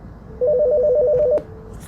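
A Mitel 6920 office desk phone's short electronic ring warbles for about a second, then cuts off with a click as the receiver is picked up, nearby and clear.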